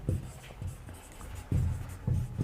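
Pen or chalk strokes while a teacher writes during a lesson, a series of short scratchy marks in an uneven rhythm, close and fairly quiet, with no speech.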